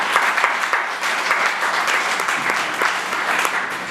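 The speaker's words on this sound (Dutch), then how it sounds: "Geef ze misschien een klein applaus." A conference audience applauds at a Belgian digital-policy event, a steady dense wash of clapping that holds loud and even for the whole stretch with no voices on top.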